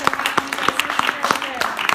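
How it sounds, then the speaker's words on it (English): Scattered hand claps from a panel audience break out at a sex-work discussion event, irregular and fairly close, mixed with voices talking over them. "So I would like to give our panel a really big round of applause."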